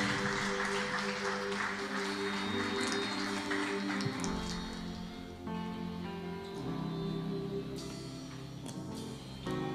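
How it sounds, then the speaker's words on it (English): A church congregation claps along during a lively service, the steady clapping blended with loud organ or keyboard music and singing. "Clap your hands if you can."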